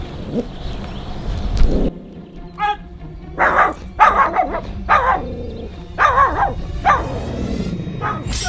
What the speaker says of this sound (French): Elle va aboyer, ça c'est sûr